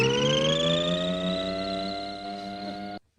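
A small electric car running down the road gives a steady high whine whose pitch rises slowly, heard as a played-back recording that cuts off abruptly at the end.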